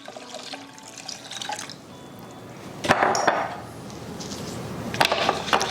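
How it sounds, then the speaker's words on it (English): Water splashes and trickles into a pot in short bursts, with a couple of louder pours and faint clinks, close by, while making a stovetop fall home-scent simmer with nutmeg. "Add in our water."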